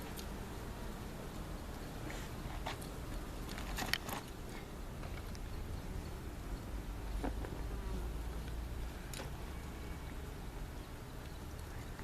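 Honeybees buzz steadily around an open hive during an inspection, a dense droning hum with individual insects whirring close by now and then.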